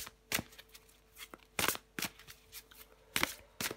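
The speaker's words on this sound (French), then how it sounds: "je prends encore une carte pour vous" Tarot cards are drawn and shuffled in short, crisp bursts of rustling and flicking, several quick snaps spaced irregularly, fairly close but quiet against a faint background hum.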